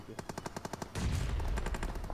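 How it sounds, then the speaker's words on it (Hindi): Bizon submachine gun fire in the mobile game BGMI: a rapid, evenly spaced burst of shots, then a dense, louder roar of gunfire and action that carries on to the end, with no one speaking. "बाइसन चला, रिलोड कर लेते हैं, मजबूरी में चलाना पड़ रहा है।"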